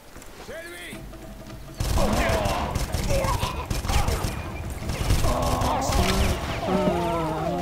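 Rapid bursts of gunfire and impacts in the Far Cry shooter video game, loud and continuous after a sudden onset, mixed with game effects and a player talking over the action.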